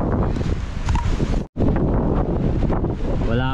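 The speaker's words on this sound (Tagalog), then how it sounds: "malakas na hangin" Strong wind on a farm buffets the microphone in a loud, continuous roar, broken by one brief drop, with a faint voice near the end.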